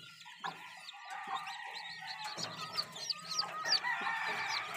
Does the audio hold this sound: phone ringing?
no